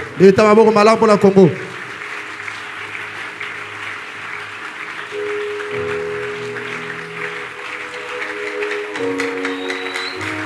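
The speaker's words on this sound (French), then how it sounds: "Levons-nous, acclamons très fort." A church congregation cheers and applauds during a service, a steady wash of clapping that carries on throughout. A loud voice rings out at the start, and talk and music continue over the clapping.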